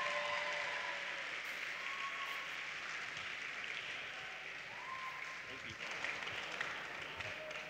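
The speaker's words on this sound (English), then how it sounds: "Give them a round of applause" An audience at a student Pride opening ceremony applauds in a steady, even wash of clapping that sounds faint and somewhat distant throughout.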